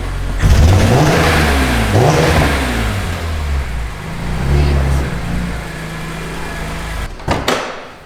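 A BMW E46 M3 fitted with a CSL carbon airbox revs up and down close by, its engine note rising and falling loudly in repeated sweeps before a short burst near the end.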